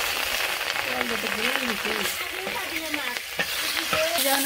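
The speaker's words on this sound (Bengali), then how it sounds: "মাছ ভাজতেছি, রসার মাছ।" Steady oily sizzling of catla fish frying in a wok fills the clip, with occasional stirring scrapes and a voice speaking faintly in the background.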